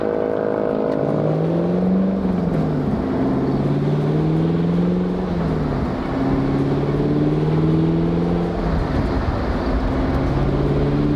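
A 2021 Chevrolet Camaro SS with a six-speed manual gearbox drives on the road, its V8 engine droning loud and steady as the pitch rises and falls through gear changes, heard from inside the car with no talking.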